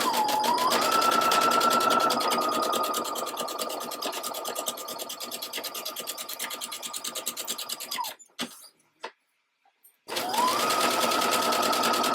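A sewing machine stitches lace for a thong in a fast, steady mechanical whir heard close up, running continuously, pausing briefly with a few clicks, then starting again.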